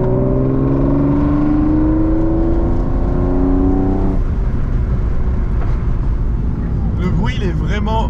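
BMW E36 325i fitted with an M3 intake, revved at full throttle from 2000 rpm, a loud rising engine whine that breaks into a rough roar, someone talking over it.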